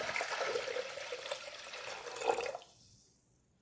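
Water pours into a pressure cooker holding rice for a traditional Kerala sweet rice dish, a steady close splashing stream that runs for about two and a half seconds before cutting off into quiet.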